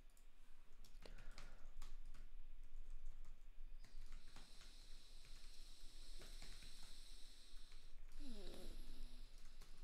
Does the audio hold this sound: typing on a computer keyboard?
yes